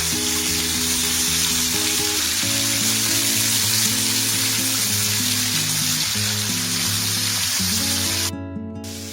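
Tomatoes frying for a chutney in a pan over a medium flame, a dense continuous sizzle heard close and loud throughout, with a low steady hum beneath and a sudden drop near the end.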